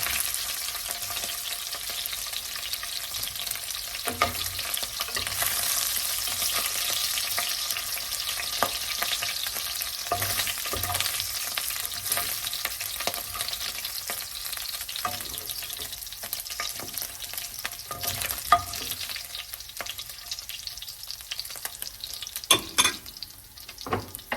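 Chicken and zucchini fry in a pan with a steady, continuous sizzle and crackle. Occasional stirring clinks sound over it, with no talking.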